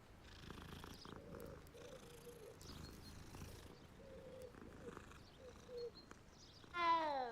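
A cat in the Hogwarts Legacy video game purrs softly in bursts while being petted, set against quiet game ambience with faint bird chirps. A louder rising chime-like game sound comes at the end.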